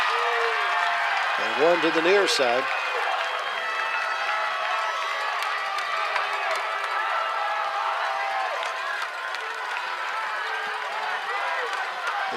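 A high school football crowd in a Waco stadium roars steadily on a 4th-and-2 play, a broad sustained wall of cheering with a whistle-like blast early on and a commentator talking over it.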